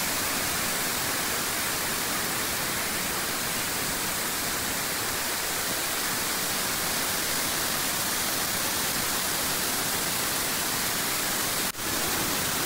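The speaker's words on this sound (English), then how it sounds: "Just such an impressive waterfall to look at" Steady roar of the large waterfall at Volcano Bay water park, a broad, continuous rushing wash that stays loud and unchanging throughout, with one brief click near the end.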